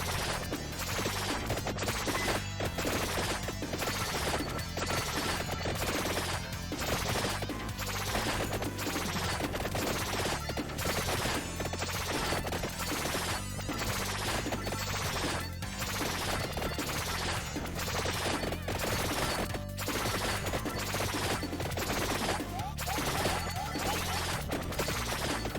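Dense, relentless barrage of fire wand attacks in the Vampire Survivors game, a continuous wall of overlapping blasts, crunches and impacts at steady loud level with fast pulsing rhythm throughout, no voice.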